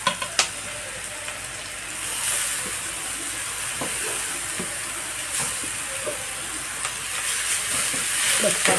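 Grated carrot frying in a pan with turmeric for carrot curry, a steady bright sizzle and hiss throughout with a few faint spoon clicks as it is stirred, no one speaking.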